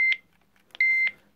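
Electronic beeps from the volume buttons on a 1990 Nokia PT612 analog AMPS brick phone: one short beep, a brief pause, then a longer sustained tone, close and clear with no talking.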